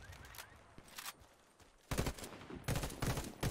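Rifle fire from an Enfield L85A2 in the video game Warface, a few scattered shots early, then rapid bursts of automatic fire in the last half, fairly close over quiet background.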